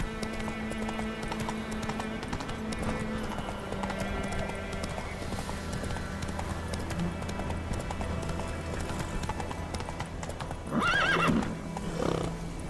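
A horse in The Witcher 3 video game gallops with a steady clip-clop of hooves, then lets out a loud whinny near the end, amid game sounds and occasional voices.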